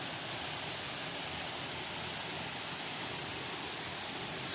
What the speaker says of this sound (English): There's a little waterfall right there.